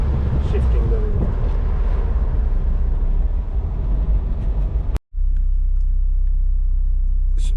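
A Porsche 944 drives slowly through a subdivision, a loud continuous engine rumble with road noise, broken by a sudden brief dropout before a quieter, steady drone resumes.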